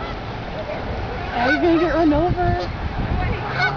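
Geese and ducks honk nearby in a short burst of nasal calls, with a person talking over the birds.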